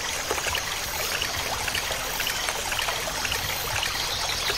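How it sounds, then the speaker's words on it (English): Water from a large shallow stream filling a pot in the survival game Survive The Wild, a steady close trickling and bubbling wash that holds constant throughout. "Large shallow stream. Press space, just like you would drink,"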